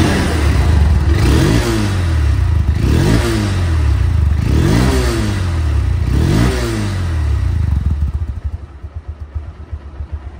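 Engine of a 2023/24 Honda Hornet CBS motorcycle, second-hand with 8000 km, revved repeatedly: five loud rising throttle blips in even rhythm over a steady idle, then settling to a pulsing idle near the end.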